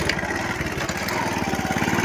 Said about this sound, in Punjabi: ਬੁਲਟ ਕੱਢਣਾ ਸੀ ਆਪਣਾ ਯਾਰ